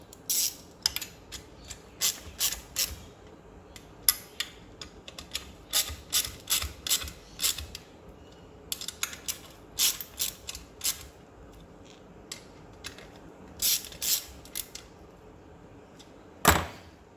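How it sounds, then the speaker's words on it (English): Ratchet nipping up inlet plenum bolts on a Ford Focus RS mk2 / XR5 Turbo / ST225 engine, repeated short bursts of crisp clicking in irregular sets, close and clear, with one louder knock near the end. "And then just nip them up with your ratchet."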